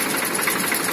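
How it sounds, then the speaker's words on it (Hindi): A 2008 Powertrac tractor engine idles in a steady, continuous rumble with a broad, even mechanical drone, close and moderately loud, with no voices. "आज स्टार्ट है ये।"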